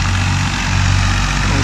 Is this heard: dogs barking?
no